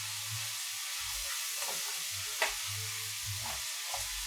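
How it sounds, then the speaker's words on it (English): Onions fry in a pan with a steady, soft sizzle and hiss, a faint clink of stirring near the middle, no talking. "these onions are cooking down perfectly"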